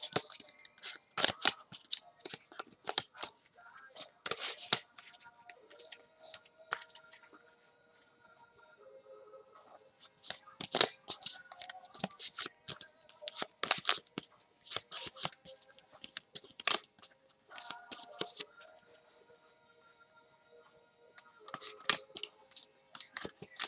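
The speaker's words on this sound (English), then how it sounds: "I'll do a new shuffle." A deck of cards being shuffled by hand in bursts of riffling and snapping, crisp and close, with short pauses between shuffles and faint talk.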